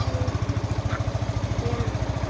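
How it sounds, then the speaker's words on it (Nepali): A tractor engine runs close by with a steady, rapid chugging pulse that stays loud and even throughout, with no voices. "ट्र्याक्टर"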